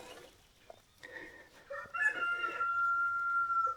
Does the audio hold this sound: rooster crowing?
yes